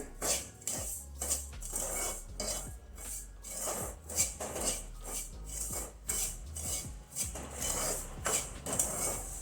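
Desiccated coconut roasting in a pan over a low gas flame, stirred with steady scraping and rubbing strokes and light metallic clinks, close and continuous with no talk.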